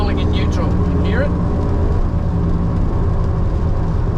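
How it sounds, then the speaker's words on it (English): A Suzuki Cappuccino rolls in neutral, making a steady, loud, low droning hum from a worn rear wheel bearing inside the cabin, while someone talks over it. "I think it's that wheel bearing"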